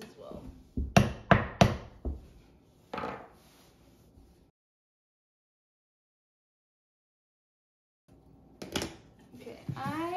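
A screwdriver taps nails into a wooden canvas frame: sharp hard taps in a quick cluster, then a single knock before silence; a few more taps return near the end, all close by.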